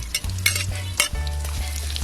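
Garlic and onion sizzling loudly in a hot pan, with a utensil scraping and clanking against the pan in short strokes over the continuous close frying hiss, no voices.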